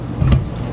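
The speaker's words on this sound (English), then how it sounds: "Let's give this rice a second rinse." Rice rinsed under a running kitchen tap, a brief close splash and gurgle of water over grains with a small swell in the middle, no talking.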